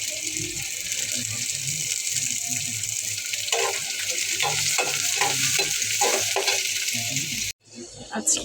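Loitta dried fish frying and being stirred in a pan, a steady close hiss with scraping stir strokes through the middle, then the sizzle cuts off sharply near the end.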